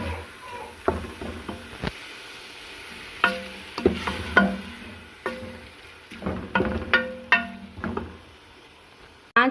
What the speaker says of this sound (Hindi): अब हम 4 से 5 मिनट तक इसको भूनेंगे दरमियानी आंच पे कीमे को